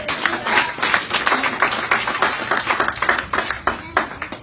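A congregation claps together at a lively church service, steady rhythmic hand claps filling the room loudly and continuously, with a few voices mixed in underneath.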